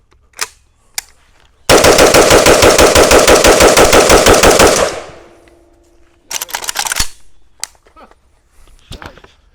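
A Palmetto State Armory AK-105 rifle fired rapidly through a magazine loaded with Bulgarian mags, loud and close as a fast, steady string of shots lasting about three seconds, followed by a few scattered clanks and knocks.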